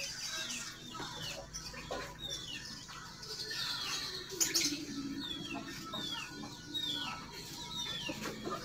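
Chickens and small birds kept by residents of an old, crumbling mansion, Gedong Dhuwur in Ungaran, Indonesia: repeated soft clucks and squawks at a moderate distance, with scattered chirps and a quiet outdoor background.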